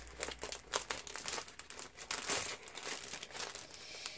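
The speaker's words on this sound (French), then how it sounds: "Je le remets dans le papier en attendant." Paper crinkles and rustles in quick irregular bursts, close and fairly soft, as sheets are folded and handled.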